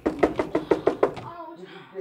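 A rapid series of about seven firm knocks on a door, close and loud, followed by a brief pause with a faint voice.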